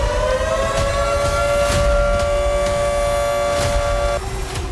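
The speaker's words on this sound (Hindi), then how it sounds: "कीव समेत कई शहरों में लगातार सायरन बजते रहे" Air raid sirens wailing over Ukrainian cities, a loud, sustained tonal howl with several layered pitches held steady, dropping in pitch near the end, with no voices.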